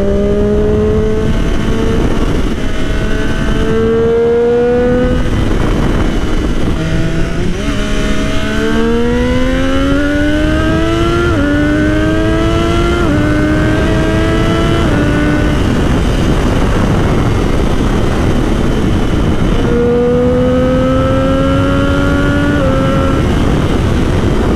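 A Triumph Daytona 675R motorcycle accelerates hard through repeated gear changes, its exhaust rising in pitch, dropping briefly at each shift, then climbing again, loud and close with steady wind roar and no talk.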